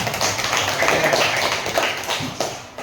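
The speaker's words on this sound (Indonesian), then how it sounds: "tepuk tangan untuk kita semuanya" Classroom applause from primary school pupils after group presentations, a dense steady patter of small hands clapping at close range, loud and continuous throughout with a few sharper taps near the end.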